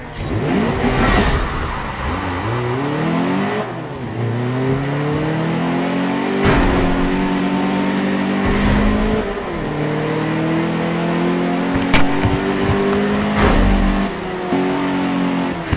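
Race car engine in a racing video game on an Indy circuit, revving loud and steady with rising and falling pitch sweeps through gear changes, continuous throughout.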